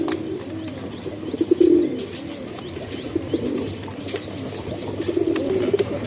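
Large Shahjahanpuri pigeons coo close by in repeated soft, throaty rolling phrases, with a few faint chirps and no talking.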